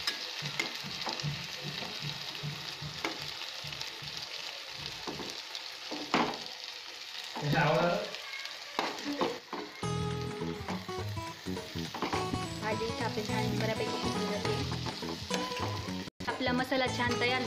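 Vegetables and masala for veg biryani sizzle steadily in a hot pan, a dense continuous frying hiss with occasional stirring scrapes and someone speaking now and then over the cooking.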